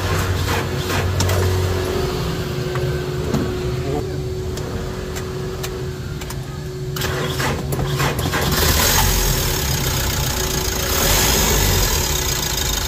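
Mitsubishi L300 Euro 4 van with about 206,000 km, just after EGR valve cleaning, starting and settling into a steady idle, loud and close, with mechanical clatter and a brief rise in engine noise partway through.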